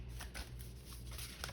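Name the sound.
shuffling a deck of oracle cards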